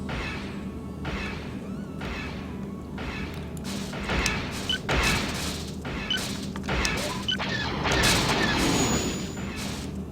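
Starfighter blasters firing in X-Wing Alliance, a steady run of sharp bursts repeating every half second or so over a constant low engine drone, with occasional heavier booms.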